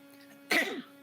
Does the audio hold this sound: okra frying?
no